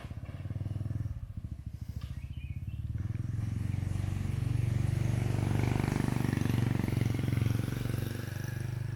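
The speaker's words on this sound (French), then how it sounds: "Je vais laisser passer la moto." Motorcycle passing by on a street in Thailand, its engine a low throbbing rumble that builds as it draws near and stays loud, then eases slightly toward the end.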